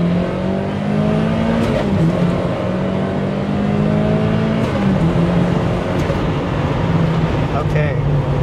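A Miata pulls hard in a 0 to 60 run, its engine note climbing in pitch and then dropping at a gear change before rising again, heard close from inside the car.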